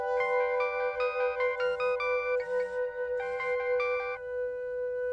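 A phone ringtone plays a bright, looping electronic melody of quick stepped notes, loud and close.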